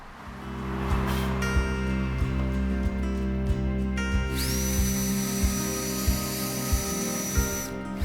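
A power drill with a Forstner bit whines steadily up close, its motor droning with regular rhythmic knocks, pitch shifting higher midway as it bites through wood.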